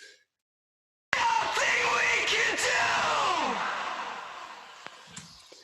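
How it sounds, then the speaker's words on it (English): Screamed vocals on a recorded music track: a harsh, strained, sustained scream that wavers in pitch for about four seconds, then slowly fades under a dense mix. "I love tracking screaming vocals"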